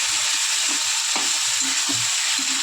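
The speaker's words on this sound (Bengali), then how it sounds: "ভালো করে কষাবো।" A fish curry with ridge gourd, green chilli paste and poppy seed paste sautéing in a pan gives a steady, close sizzle with a few soft stirring scrapes.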